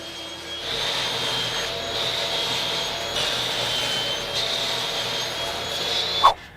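A table saw rips a 2.5-inch strip from salvaged dumpster wood for a couch table. It gives a loud, steady high whine with cutting noise that holds for several seconds, then a sharp knock right at the end.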